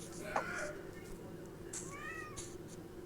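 A cat gives two short, soft meows, the second rising and wavering, heard faintly over low background noise.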